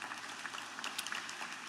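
Faint applause from an audience at a graduation ceremony, a soft, even wash of many hands clapping for the whole moment, distant and low in level.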